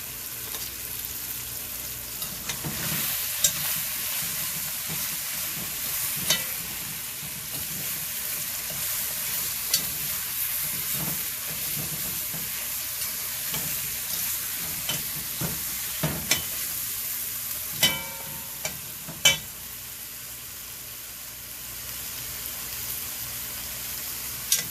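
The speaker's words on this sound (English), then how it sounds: "give it a quick stir just to coat my meat with the seasoning and the curry" Curry goat meat fries in oil with seasoning while being stirred, a steady sizzle broken by intermittent scraping knocks of the spoon against the pot, no voices.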